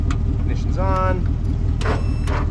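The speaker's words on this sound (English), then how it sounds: "I'm gonna try to start it again" A car engine runs at a steady, loud idle after being restarted during a test and tune, with a voice briefly heard over the rumble.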